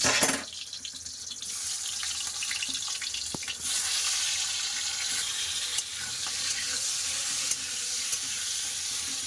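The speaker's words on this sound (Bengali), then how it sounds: "তেল গরম হয়ে গেছে আমাদের একটা টাকা কুমড়ো ছেড়ে দেবো" Pumpkin pieces hitting hot oil in a wok-style karahi, setting off a steady, dense sizzle that runs unbroken and fairly loud, with a sharp burst at the start as the pieces go in.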